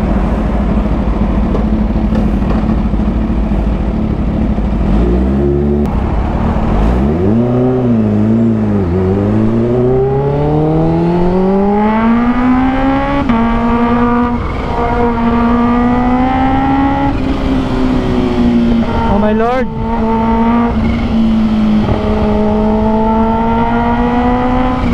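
A Kawasaki H2 motorcycle accelerates hard, its loud engine rising in pitch through the gears with brief dips at each shift, then holding a steady high drone close to the rider.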